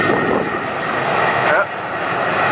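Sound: Boeing 737 jet airliners at Atlanta airport

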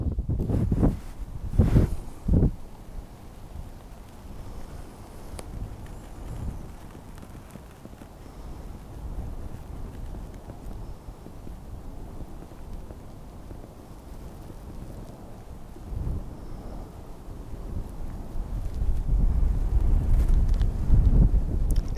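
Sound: wind blowing on an exposed moorland causeway

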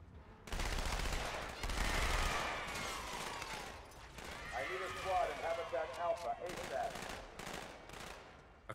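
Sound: gunfire in a video game

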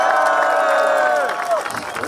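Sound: audience applause and cheering

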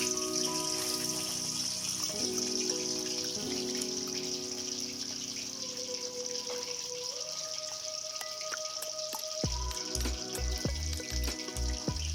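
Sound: fish frying in a hot pan

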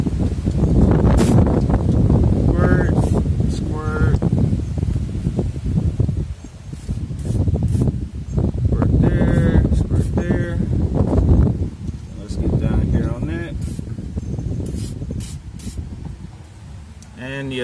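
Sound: wind

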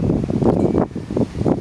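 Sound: wind gusts

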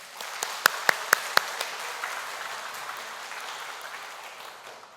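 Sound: congregation applauding

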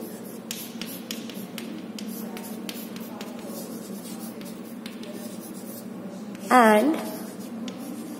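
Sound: writing math on paper or board

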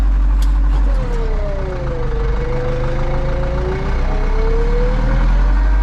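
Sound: Zetor 7211 tractor engine with throttle applied

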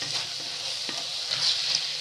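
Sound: sautéing chicken with onion, garlic and ginger in oil

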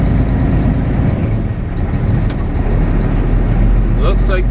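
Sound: semi truck pulling out of a truck stop

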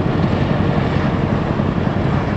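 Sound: helicopter flying overhead carrying Singapore flag

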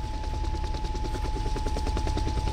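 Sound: helicopter in a video game

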